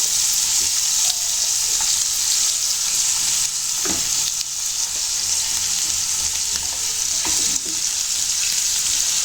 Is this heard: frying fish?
yes